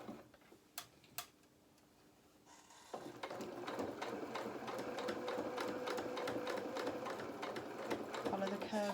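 A sewing machine stitches along the hem of a doll's shirt, its needle running in a steady, rapid ticking rhythm close by after a few isolated clicks and a brief pause.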